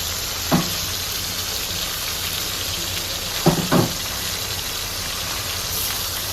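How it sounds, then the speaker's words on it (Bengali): Shole fish pieces fry in oil in a kadai with a continuous loud sizzle, broken by a single clink early and a quick pair of clinks later. "এক এক করে সব মাছগুলোকে আমি দিয়ে কড়াইয়ে তেলে ভেজে নিচ্ছি"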